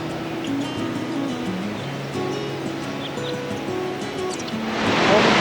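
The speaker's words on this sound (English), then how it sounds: "Waterfall number 1." Steady broadband rush of a waterfall in the Mindo cloud forest of Ecuador, a continuous wash of falling water that swells louder near the end, with a low engine-like hum underneath.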